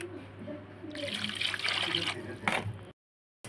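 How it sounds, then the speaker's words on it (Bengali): Hot water runs while something is rinsed in a kitchen, a steady close splashing flow that thickens midway, then stops abruptly near the end; a brief voice may sound under the water. "এবার আমি গরম জল দিয়ে ধুয়ে নেব।"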